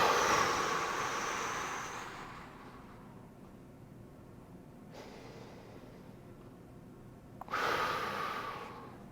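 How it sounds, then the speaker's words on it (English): Deep breaths drawn in and held during a shoulder-blade stretch for back tension: a long, airy inhale fading into a quiet held pause, then a second sharp intake of breath near the end, close and fairly soft. "I take about 2 to 3 deep breaths"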